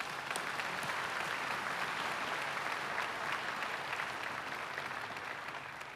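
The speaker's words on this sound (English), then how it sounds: "Let's give our families and loved ones a round of applause." A large audience of families and loved ones applauds at a Florida Highway Patrol trooper graduation ceremony, a broad, steady roar of hand clapping in a big hall, heard from a distance and tapering slightly at the end.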